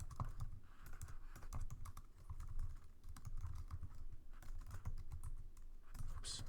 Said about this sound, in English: Oops, sorry, my typing is not good.